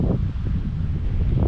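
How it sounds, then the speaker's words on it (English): Wind gusts across a microphone outdoors on a windy day in a brief burst of low, steady rumbling buffeting. "It's a little bit windy out here."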